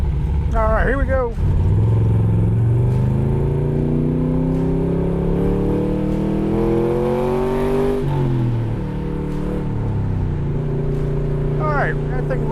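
A 1964 Chevrolet Corvette coupe engine revs up steadily to the red line under acceleration, the pitch climbing loud and close, then dropping with gear changes and climbing again.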